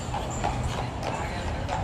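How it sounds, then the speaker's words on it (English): Horse hooves clip-clop in a steady rhythm as a horse and buggy pulls past on a city street. Constant broadband street or traffic noise sits beneath the hoofbeats. "Horse and buggy."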